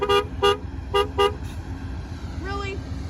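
A fouled Nathan K5LA horn on an Amtrak train sounds in a string of short, harmonic-rich toots with uneven spacing. A later, lower, wavering note carries a distorted, fouled quality. The horn is moderately close over steady background rumble.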